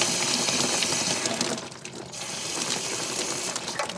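Water rushes steadily from a Suburban 6-gallon RV water heater as its pressure is released, a continuous close hiss and gurgle that briefly dips before resuming, with faint mechanical clicks underneath.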